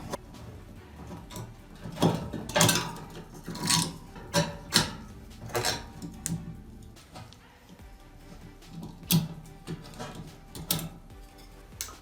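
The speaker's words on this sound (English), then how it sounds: "Next, we'll go ahead and remove our drain lever." A bathtub drain lever is unscrewed and pulled free during a tub and tile shower surround installation, giving scattered small metallic clicks, taps and scrapes at close range with quiet gaps between them.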